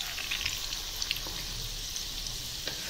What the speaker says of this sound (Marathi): याला लालसर ब्राउनिश होईपर्यंत आपल्याला व्यवस्थित तळून घ्यायचं आहे